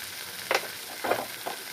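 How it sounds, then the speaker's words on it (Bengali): Masala with prawns and pointed gourd fries in a pan under a constant sizzle, with three short scraping stirs of a spoon through the mixture, close and brief. "ভালো করে নাড়াচাড়া করব মশলাটাকে আমি ভাজবো ভালো করে"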